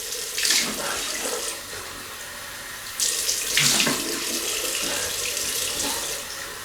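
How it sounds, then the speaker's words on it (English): A bathroom tap runs water into a sink, a loud close steady stream with splashing surges as hands wet the face for a shave. "we're gonna just wet the face"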